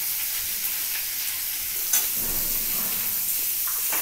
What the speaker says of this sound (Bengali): এবার আলুটা আমি দিয়ে দিচ্ছি, ভেজে নিলাম, ভেজে আলুটাকে তুলে নিচ্ছি।